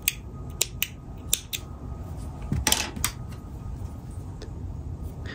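Scissors cut crochet yarn in a handful of quick, crisp snips, close and clear over a quiet background.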